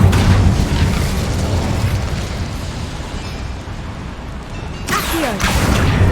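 Incendio fire spell cast in Hogwarts Legacy, a loud, roaring blast of flame that rumbles steadily for several seconds, then flares again in a sharp, bright burst near the end.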